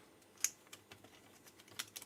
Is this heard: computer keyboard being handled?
yes